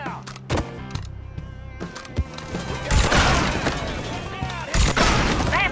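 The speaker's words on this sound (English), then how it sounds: "Hey, shoot this guy." Gunfire in Mafia III, with several sharp shots and bursts at irregular intervals, some close and loud, plus booming impacts amid a busy game mix.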